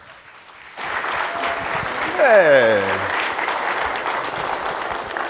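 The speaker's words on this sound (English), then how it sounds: "Give him a large round of applause and welcome Dhani Jones to 407" An audience welcomes Dhani Jones to an entrepreneurship talk with loud sustained applause and clapping that starts suddenly and keeps going, while someone calls out over it.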